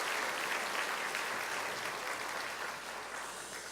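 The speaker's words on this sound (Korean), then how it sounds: "수고하신 우리 찬양대와 모든 오케스트라 박수하겠습니다." A church congregation applauds the choir and orchestra at an Easter service, a dense, even wash of clapping from many hands that holds steady and fades slightly toward the end.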